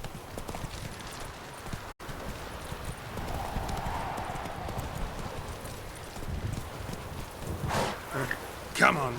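Hooves of the horse Roach in The Witcher 3 clip-clopping steadily at a walking pace, with a voice speaking over the hoofbeats and a brief snort near the end.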